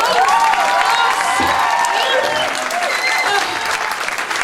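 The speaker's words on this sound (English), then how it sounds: "Everybody give her a round of applause" Audience applause mixed with cheers and excited voices after a stage performance, loud sustained clapping from a lively crowd with shouts rising over it.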